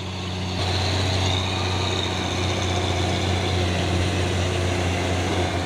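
A tanker truck passing on a road, a loud sustained engine drone rising sharply at first, then holding steady and broad with no talk.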